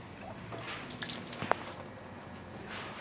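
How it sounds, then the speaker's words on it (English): Water runs and drips in a sink as a preserved dissection specimen is rinsed, with faint trickling, splashes and a sharp drip close by, quiet overall. "Let me just rinse this off."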